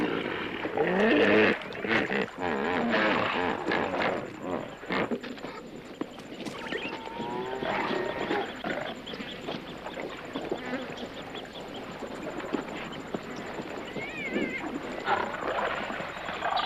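Lions near a herd of hippos in Kruger National Park give low roars and grunts, with other animal calls mixed into a continuous wild chorus.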